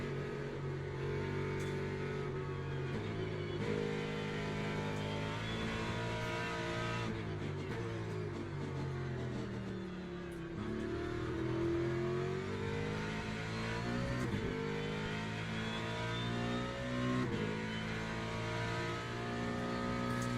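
A hypercar engine in Le Mans Ultimate revs hard through the gears, its dense, continuous drone rising and falling in pitch as it accelerates, with faint tire noise underneath.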